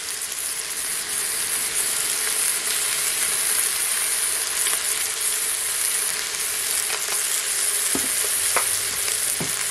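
Pork pieces coated in colombo powder browning in an electric multi-cooker, a loud, steady frying sizzle that runs unbroken throughout, with a few faint utensil taps near the end.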